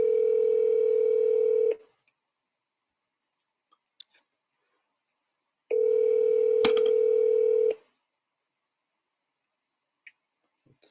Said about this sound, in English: Let me give Tanya a call.